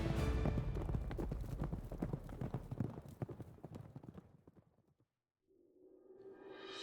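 Horses' hooves clip-clopping as Sassanid horse archers ride, a dense rapid drumming of many hooves that thins and fades out, followed by a brief silence and a rising tone.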